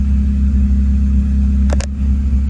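Honda Accord CB7 with an H22 engine idling, a steady close low rumble holding level throughout, with a brief higher-pitched scrape or squeak near the end and no voices.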